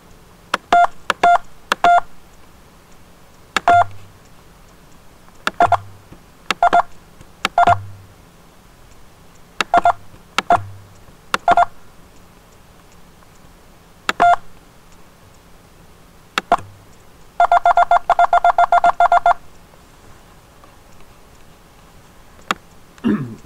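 Telephone keypad tones beep in short separate bursts during a phone call, with pauses between them and a faster run of rapid beeps near the end, clear and up close with no speech.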